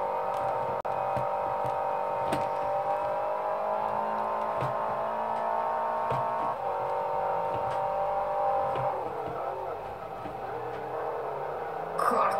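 Racing car engine in a forest-track racing video game, a steady droning whine holding through the clip with a shift in pitch near the end, continuous and fairly loud with no talk over it.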